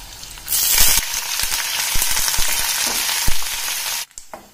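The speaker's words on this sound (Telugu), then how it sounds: "తాలింపు అనేది వేగిందండి, ఇలా ఎర్రగానే ఉండాలి." Dried red chillies, curry leaves and garlic tempering in hot oil, a loud steady sizzle with a few stirring clicks that cuts off abruptly near the end, no voices.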